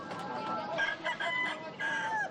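Fighting cocks set out on a city sidewalk crow in repeated drawn-out calls with some clucking between them. The sound is fairly faint and set against soft street background.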